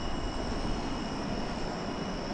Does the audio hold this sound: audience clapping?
no